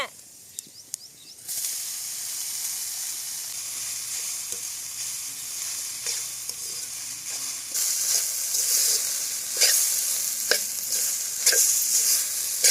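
Vegetables frying in oil for poha fried rice, a steady close sizzle that starts suddenly and grows louder toward the end, with occasional stirring scrapes.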